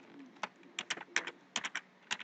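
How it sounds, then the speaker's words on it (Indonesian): Fingers type on a computer keyboard in short, quiet clusters of sharp clicks with small gaps between bursts, close by in a quiet room. "Disinilah kita tempat mengetik."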